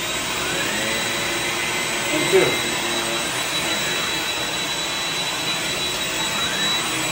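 A corded Shark HV301 Rocket ultra-light vacuum cleaner runs with a steady, loud motor whine throughout, a brief voice surfacing over it near the middle.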